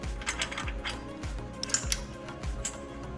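Rocker arms come off a Predator 212 engine head to a close, rapid run of ratcheting mechanical clicks, repeating in quick, regular cycles.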